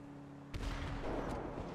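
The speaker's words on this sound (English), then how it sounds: "Those explosions are loud." Explosions in a GTA roleplay game, a sudden loud boom bursting in after a quiet hum, followed by sustained rumbling and a second fainter blast, close and heavy.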